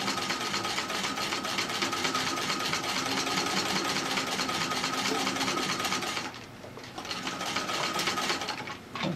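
Singer Model 15-91 sewing machine stitching a patchwork flat cap and running over pins, steady rapid mechanical whir and needle clatter, close and continuous, briefly easing off near the end.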